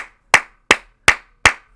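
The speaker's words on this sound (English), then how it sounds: "I gotta clap it up for you" Five sharp, close hand claps spaced evenly about a third of a second apart, each crisp and loud against near silence.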